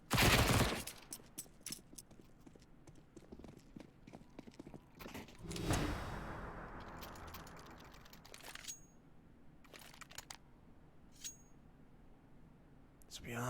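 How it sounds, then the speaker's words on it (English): SMG gunfire against pistols in an esports video game match, rapid rattling bursts of shots, loud at the start and then sparser and fainter, with a commentator talking over parts of it. "The SMG continuing to rip through the pistols here."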